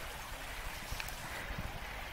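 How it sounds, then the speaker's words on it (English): A small woodland creek flowing on a farm with maple trees, a steady close trickle and gurgle of running water with no voices. "I love our creek."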